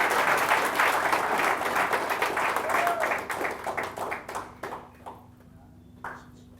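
Clapping rises from a business training audience as a graduate is honoured, dense applause that thins into scattered claps and dies out, while someone speaks over it and a brief tone rings.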